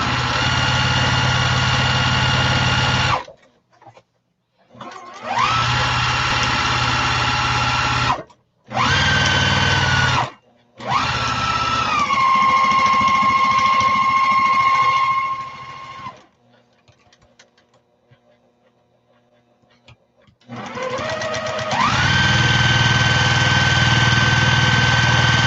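A sewing machine stitches a fancy shopping bag in several loud bursts of steady whirring, with short pauses between runs and a longer near-silent gap before the final stretch.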